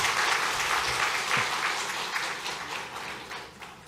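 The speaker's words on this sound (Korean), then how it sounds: "박수로 우리 예배 시간이니까 주님께 영광의 박수 올려드리겠습니다" Congregation clapping in praise during a Korean church worship service, a steady broad wash of applause that slowly fades, with no talk over it.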